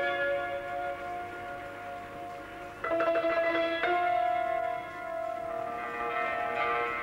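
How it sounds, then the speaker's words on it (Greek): Monastery church bells on Mount Athos ring out in layered, sustained tones, growing louder as more strikes join in around the middle before slowly fading. "ήχοι από καμπάνες που δεν σβήνουν ποτέ"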